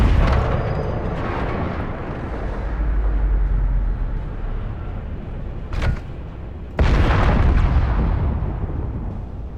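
Hydrogen tank explosion in the survival video game Space Engineers: a loud, sustained rumbling roar with a sharp crack partway through, then a second heavy blast that keeps rumbling on.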